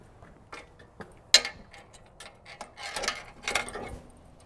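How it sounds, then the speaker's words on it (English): Metal pins being pulled to release a RucRak table from a Bronco, a sharp click followed by scattered close rattles, clunks and mechanical clicks, with no talk. "there's little pins here that you can pull and you can easily take off"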